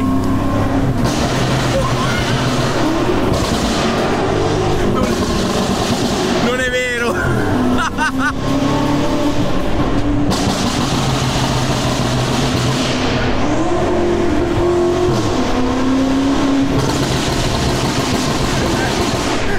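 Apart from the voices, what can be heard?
BMW M5 Competition engine, exhaust and gear shifts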